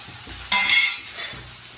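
Onion, garlic gravy, sesame seeds and peanuts hit a hot pan with a sudden loud sizzle that swells and fades over a second, followed by a softer second burst of frying.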